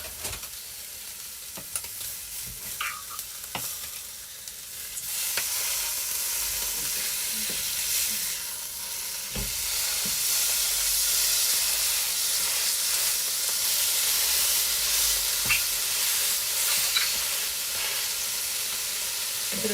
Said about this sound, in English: I'm just going to turn my steaks over.